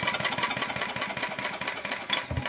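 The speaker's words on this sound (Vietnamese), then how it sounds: "nghe bơm nó chạy đó anh em" A motor-driven pump runs steadily close by, a dense rapid mechanical chugging with a continuous rattling hum and no talk over it.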